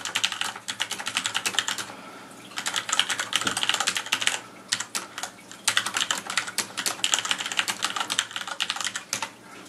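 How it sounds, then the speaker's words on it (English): Typing on a Corsair Vengeance K60 keyboard with Cherry MX Red switches: close, rapid clacky keystrokes in bursts separated by short pauses, heard alone without talk. "so I'm going to type a quick little sentence"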